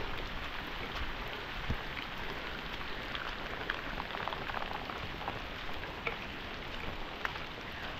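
Heavy rain pours down on a traditional African homestead, a dense, steady patter and hiss that continues without a break, with no voices.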